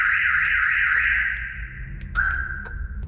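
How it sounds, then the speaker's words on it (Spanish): A VW Saveiro G1 car alarm, set off through the door button, wails with a steady warbling siren that cuts out and restarts as a sustained tone, loud and close. "Activamos la alarma y ahora cuando yo suelto el botón es como si se abriera la puerta"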